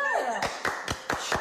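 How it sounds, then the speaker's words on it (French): A single person claps hands in a classroom, a few sharp, separate claps in an uneven rhythm, close and distinct, following a brief tonal sound at the start. "Pourquoi il applaudit comme ça?"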